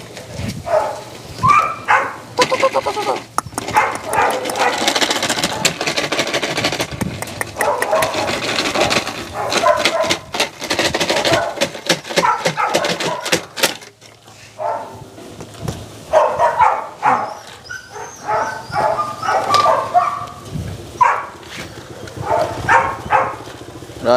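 Belgian Malinois puppies in a red-fawn litter bark repeatedly in a busy, fairly close burst, with scattered yips and knocks over a steady low background hum.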